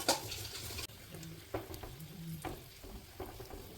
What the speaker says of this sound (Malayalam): വെന്ത ചുരക്കയിലേക്ക് നമുക്ക് ഒന്നാം പാൽ ഒഴിച്ചു കൊടുക്കാം.